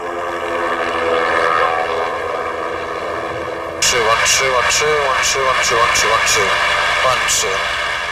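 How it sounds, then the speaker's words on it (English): Two small engines of an airship growl at full power during takeoff, a steady droning roar with rhythmic propeller pulsing that thickens partway through, loud and near. "Growling to full power, the 2 small engines struggle under the added weight"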